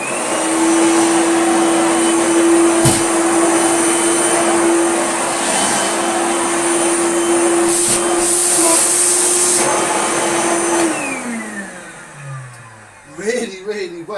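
A restored yellow Hoover Celebrity S3005 vacuum cleaner runs on a rug, a loud steady whining drone that holds for about ten seconds, then winds down with falling pitch as it switches off.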